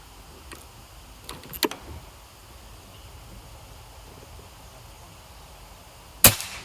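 Near the end comes one abrupt, loud pop from a Bocap RTXX air rifle fired at long range. Before it, faint ticks and a couple of soft handling knocks sit over quiet outdoor background.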